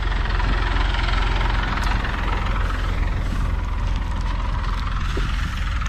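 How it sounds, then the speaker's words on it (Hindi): A tractor engine runs steadily in a farm field of black gram, a constant low rumbling drone with even vibration, close and loud, no voices. "तो अभी इधर ट्रैक्टर चला रहे हैं"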